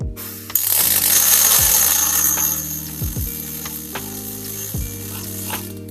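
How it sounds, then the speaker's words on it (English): A Nukeson Weldbot robotic welder runs a test weld at full speed, giving a loud, continuous crackling sizzle with short mechanical whirs and ratcheting pulses repeating underneath. "press play button and start welding"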